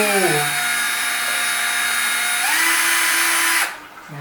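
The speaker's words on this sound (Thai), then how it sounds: "เราก็เจาะรูตรงนี้เลย" A power drill bores a small hole in a plastic part for a homemade water gun, whining steadily and loudly at close range, with a pitch shift midway before it cuts off near the end.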